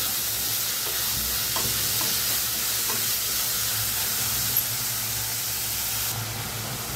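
Two medium onions frying in a pan, a steady close hissing sizzle with a few faint stirring clicks, the hiss dropping slightly near the end.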